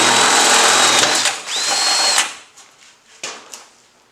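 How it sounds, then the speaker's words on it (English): A power drill bores spot-weld holes in a rusted van panel, with two close whining bursts followed by a few fading clicks and knocks. "I'm putting the spot weld holes in now"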